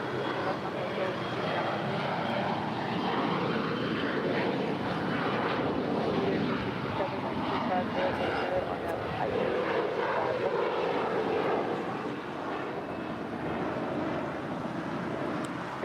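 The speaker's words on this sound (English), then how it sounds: "That is Alaska SkyWest Flight 3474 departing to Fresno." Alaska SkyWest Embraer E175 LR regional jet departing LAX, a steady broadband engine roar holding loud and constant throughout, easing slightly near the end.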